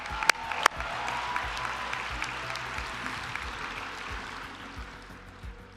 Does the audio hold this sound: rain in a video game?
no